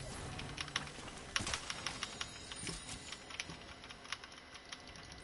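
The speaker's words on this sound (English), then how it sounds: "my keyboard is really loud" A loud computer keyboard clatters with rapid, uneven key presses during a Fortnite match, dense bursts of close clicking over faint game sound.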